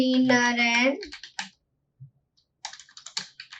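Quick keystrokes on a computer keyboard while HTML code is typed, heard as close clicking bursts with a brief pause mid-way before another run of taps.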